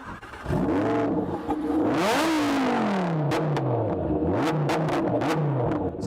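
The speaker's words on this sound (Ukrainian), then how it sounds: "Техніка має покращену та більш гучнішу вихопну систему порівняно з звичайним Huracan Evo" A Lamborghini supercar with an upgraded exhaust, louder than a regular Huracan Evo's, revs hard and loud with a roaring exhaust, pitch climbing and falling through repeated throttle blips, close by.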